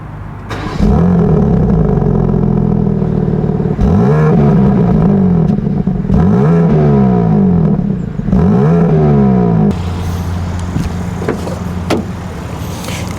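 A BMW M2 drives off, its engine loud and close as it revs up through several gears with rising pulls and shift breaks, then settling to a lower cruise with some clicks near the end.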